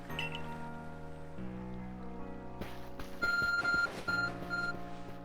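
Repeated electronic beeps in Pokemon Legends: Arceus over steady game music, a short run of bright tones starting after a few seconds and coming back in brief bursts.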